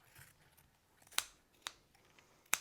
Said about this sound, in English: Oh, the scissors is horrible.